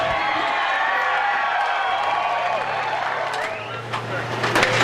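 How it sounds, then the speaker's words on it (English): A crowd cheers and applauds after a show, with a broad wash of clapping, whoops and voices that swells toward the end, while someone talks over the top. "it looks like the crowd sure seemed to appreciate the show"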